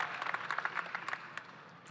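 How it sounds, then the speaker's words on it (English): An audience applauding new scholars at a leadership forum, a faint patter of scattered clapping from a modest crowd that thins out toward the end. "Come on, bigger round of applause."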